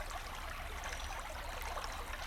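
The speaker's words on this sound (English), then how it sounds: "flowing water." Steady flowing water from a stream in the city at night, a continuous close trickling rush with no breaks and no voices.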